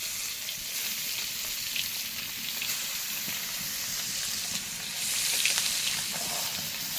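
Fish frying in a home kitchen pan, a continuous bright hiss of oil with small crackles and occasional louder bursts of sizzle, steady and close, with no talk.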